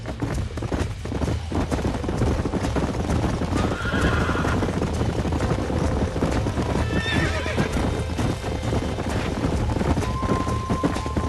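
A horse whinnies loudly amid steady clip-clopping hooves in the video game Red Dead Redemption, with a second neigh later, all under a constant low rumble of ambient noise.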